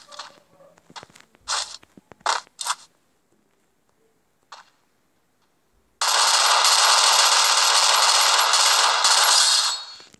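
Sustained burst of automatic gunfire in a mobile shooter game, loud and steady for about four seconds, preceded by scattered short clicks and taps.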